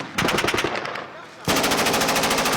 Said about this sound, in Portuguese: O outro soldado continua atirando.